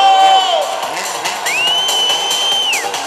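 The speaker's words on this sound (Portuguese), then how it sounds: "onde a galera tá mais animada, gritando, assobiando, batendo palmas" A crowd at a motorcycle stunt show, with Honda sport bikes, whooping and cheering, with loud sliding whistles rising and falling over the general noise and some clapping.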